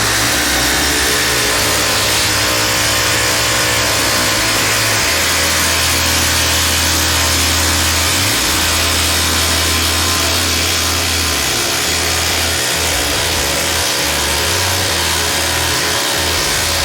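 A Kobalt XTR impact driver runs in a loud, continuous grinding drone that holds for the whole stretch, with its pitch shifting a few times as the load changes.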